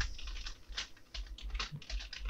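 Keys clatter on a computer keyboard in quick irregular bursts, close and fairly quiet, with a few short pauses between the runs of keystrokes.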